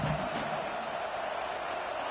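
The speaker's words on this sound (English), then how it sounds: "listen to this crowd noise. This stadium is vibrating." A stadium crowd roars in a college football video game, Michigan vs Nebraska, as a dense, steady wash of noise that fills the whole moment without breaks.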